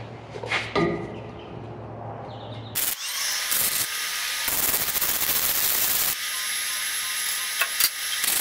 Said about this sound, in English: Weld her up real quick.